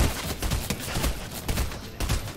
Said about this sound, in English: Yo, people are shooting at me.